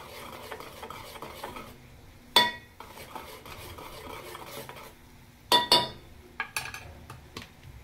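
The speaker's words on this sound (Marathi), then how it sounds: "हे सगळं व्यवस्थित मिक्स करायचंय" A spoon stirs a face pack mixture with coconut oil in a metal pot, scraping softly and scooping, with a few sharp metallic clinks against the rim, one near the middle and a cluster near the end.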